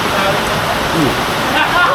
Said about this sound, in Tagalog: Maulan nga naman, lakas na ulan eh.